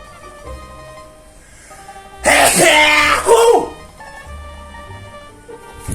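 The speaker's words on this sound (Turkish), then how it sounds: "hapşırmak." A single loud sneeze bursts out close by, lasting about a second amid otherwise quiet background with faint talk.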